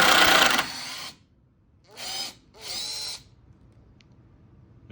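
A power drill backs a screw out of lumber: a loud opening whir winds down, then two short whining bursts with rising and falling pitch, close and with no talking.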